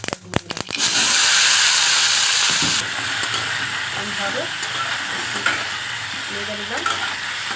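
Spices for a jujube chutney crackle and sizzle loudly in hot mustard oil in a wok, settling into a steady fry with intermittent scrapes of stirring; no talking.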